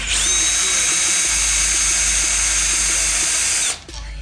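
A power drill runs steadily at high speed, close and loud, for about three and a half seconds while backing out the top bolt on a Can-Am Ryker, then winds down and stops.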